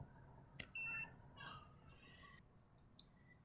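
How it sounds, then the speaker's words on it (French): A veterinary ECG recorder gives a short, clear electronic beep as it switches on, preceded by a click, then quiet handling noises in a calm room. "Une fois qu'il est allumé, vous entendrez un bip."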